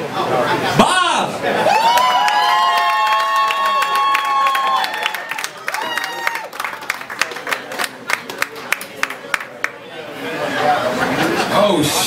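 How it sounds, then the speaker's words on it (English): Comedy club crowd at the Hermitage Rusty Nail greeting a stand-up comic, with whoops and a whistling cheer, then a run of sharp, separate claps, and a swell of crowd noise and chatter near the end. "So y'all give him a real big round of applause."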